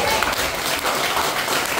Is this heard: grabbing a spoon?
no